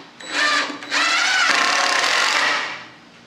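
A power drill whirs in two bursts, a short one then a longer sustained run that tapers off, driving 3-inch number 8 Robertson screws into wood at close range.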